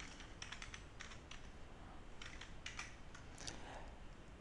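Typing on a computer keyboard while entering a sudoku verification formula for rows and columns, with bursts of quick, close key clicks in uneven rhythm throughout.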